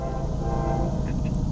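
An eastbound CSX manifest freight train (M421) rumbles steadily close by, a continuous low mechanical roar with a faint horn-like tone rising near the end.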